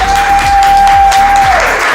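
Audience applauding guests at a corporate company-day event, a short, steady burst of clapping with a sustained tone running through it and low rhythmic thumps beneath.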